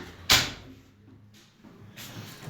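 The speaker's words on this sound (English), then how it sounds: "So, I'll shut the door so you don't hear all the background." A door is shut with one sharp thud near the start. After it comes quiet room tone and then a soft rustle toward the end.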